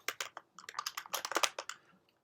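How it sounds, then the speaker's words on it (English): Rapid typing on a computer keyboard, quiet, close-up key clicks in uneven bursts that trail off into a few last taps. "I'm just typing"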